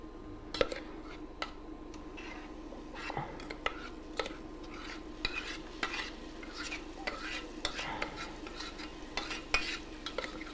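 Burnt aubergine cooks in hot oil in a pan, giving a quiet, steady sizzle broken by irregular scraping and clicking as it is stirred, close by and fairly soft.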